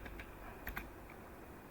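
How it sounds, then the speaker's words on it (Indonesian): Keys on a computer keyboard are pressed in a quiet room, giving a few soft, close clicks spaced irregularly, with one small burst of taps near the middle. "Teman-teman bisa rename dengan cara mengklik terus menekan F2 pada keyboard."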